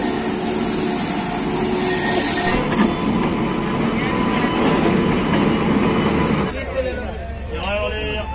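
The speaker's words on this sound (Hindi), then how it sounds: "तो गाइस अपनी ट्रेन भी जा रही है बांद्रा टर्मिनल की ओर" Swaraj SuperFast Express train pulling out of Pathankot station, loud continuous rumble of railcars and wheels with squealing and rattling throughout, voices and station noise mixed in near the end.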